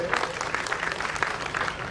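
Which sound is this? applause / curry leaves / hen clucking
applause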